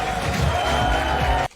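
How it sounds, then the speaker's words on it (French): An audience cheering loudly, with a broad roar of voices and whoops that holds steady and then cuts off abruptly. "C'est ce qu'on appelle les acclamations du public"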